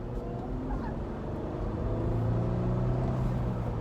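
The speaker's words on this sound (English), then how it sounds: "the engine can roar. It's not a bad sounding engine." Jeep Wrangler JL engine running steadily, a low, even rumble with harmonic drone that swells slightly in the second half, close and continuous with no talk.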